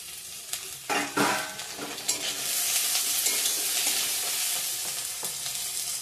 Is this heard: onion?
yes